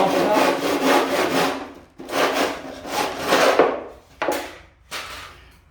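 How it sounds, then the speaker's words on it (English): A handsaw cuts small test miter pieces from a cove cornice offcut in rough back-and-forth strokes, with a few short pauses between bursts of close, raspy sawing. "So to do a test miter, we need to cut 2 small pieces out of the off cut."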